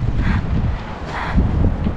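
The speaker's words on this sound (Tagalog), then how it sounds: "Mahangin." Strong wind blowing outdoors, buffeting the microphone in loud, low rumbling gusts that swell and ease over a couple of seconds, with no talking.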